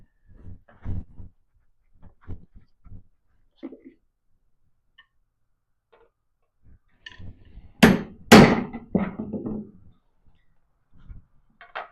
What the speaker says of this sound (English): I'm going to chisel into that valley